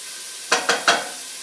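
Onion and garlic frying in a pan for seared scallops on pasta, a steady soft sizzle with three quick stirring scrapes in a row, close by.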